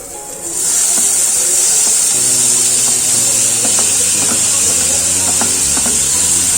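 Chopped tomatoes tipped into frying onions for paneer butter masala, a loud steady sizzle and hiss throughout with light stirring scrapes and clinks near the pan.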